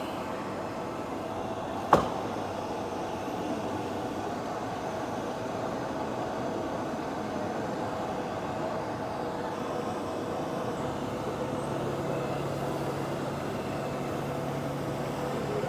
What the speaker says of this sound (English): so we'll turn our vacuum on